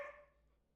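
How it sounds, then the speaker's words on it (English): A blind and deaf dog gives one short, faint bark in the background that fades quickly, with nothing else around it. "Forgive me as well if you hear the dog in the background."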